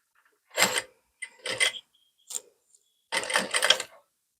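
Sewing machine stitching the front part of a double katori blouse, running in four short bursts of varying length separated by brief pauses, close and fairly loud.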